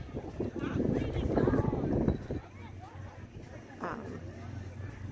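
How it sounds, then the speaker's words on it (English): Strong wind gusts roar across the beach deck of the MSC Meraviglia cruise ship, buffeting loudly at first and then easing to a lower rush, with a person talking over it. "It's an extremely windy day today"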